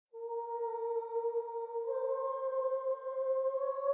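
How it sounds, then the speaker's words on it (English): A small choir sample of a solo boy soloist, played in FL Studio, holds a clear, sustained sung tone that enters after a short silence and shifts slightly upward midway, with no talking. "The last part of the sound is this small choir."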